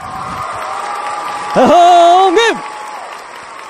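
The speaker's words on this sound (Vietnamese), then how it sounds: "Vỗ tay lên." A studio audience claps steadily throughout a Vietnamese children's singing show featuring vọng cổ, while a voice briefly rings out over the middle of the applause.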